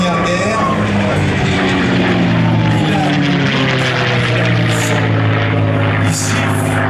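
A P-51 Mustang fighter with a British engine flies past at the La Ferté-Alais airshow, its piston engine droning loud and close with a pitch that slides downward as it passes, while a commentator talks over it.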